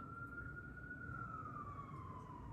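A police or ambulance siren wails steadily outside, its single tone slowly falling in pitch as it passes at moderate distance over constant low street rumble.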